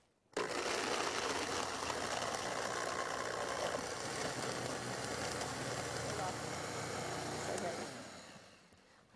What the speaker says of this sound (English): We're just going to push blend and wait till these get all put together